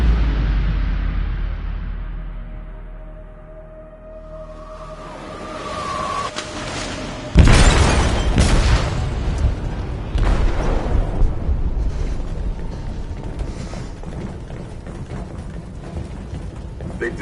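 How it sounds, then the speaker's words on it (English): A huge explosion erupts in a ship's hold in Detroit: Become Human, a sudden loud boom at mid-clip followed by a long roaring, rumbling aftermath and debris clatter, preceded by tense low ambience and a brief tone. "They detonated an explosive in the hold."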